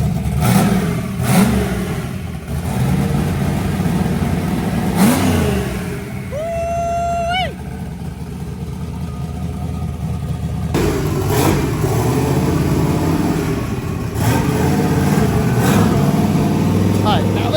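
A car engine, a Datsun roadkill project car fitted with a new engine, starts up and revs, its engine noise loud and close throughout with a rising rev partway through, while people talk over it.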